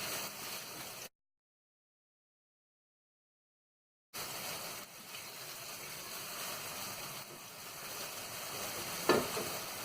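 Grated onions sizzle in hot oil in a pan for an eggless kofta curry, a steady soft frying hiss with occasional stirring, broken by a few seconds of silence.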